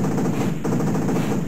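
A machine gun firing in the train strategy game Transarctica: a dense, continuous rattle of rapid shots, loud and close, with no pause.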